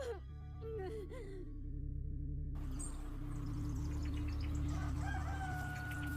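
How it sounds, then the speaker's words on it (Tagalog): Rooster crowing at sunrise, a single drawn-out crow near the start over a steady low background bed, with faint music-like tones afterward. "Pagtilaok ng manok at pagsikat ng araw"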